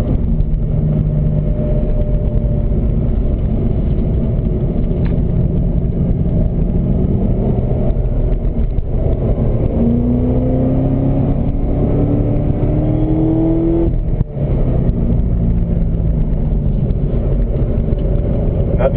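A Corvette ZR1 engine pulls hard around a race track, a steady loud mechanical roar that climbs in pitch and then drops through a gear change to fourth.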